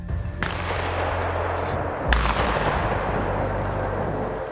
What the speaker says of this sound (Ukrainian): з правого флангу роздалися постріли